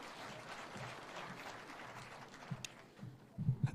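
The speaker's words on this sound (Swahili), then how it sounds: "Makofi kwa Mheshimiwa." Faint, steady applause from a crowd at a distance at a Kenyan presidential project launch, with a few louder thumps near the end.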